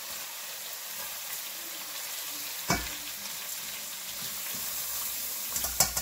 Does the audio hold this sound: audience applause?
no